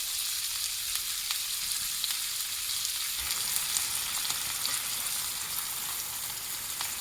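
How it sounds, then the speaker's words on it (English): Purple cabbage sautés in a pan over medium heat, giving a steady, even sizzle that holds at a constant level throughout, close and continuous with no voices. "we're going to let it start to saute on a medium heat"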